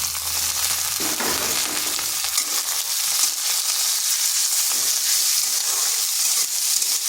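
Green chillies and chopped onion sizzle steadily in a hot pan, a dense, even crackle that holds throughout, with a low hum under the first two seconds.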